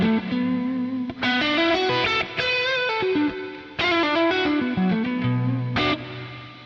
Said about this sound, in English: So this is kind of doing slapback and reverb.